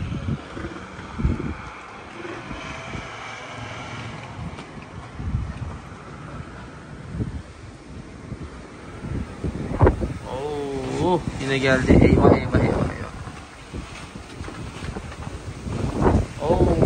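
Strong wind roars and buffets the microphone throughout, with a gusty night storm and heavy rain outside while a person exclaims anxiously.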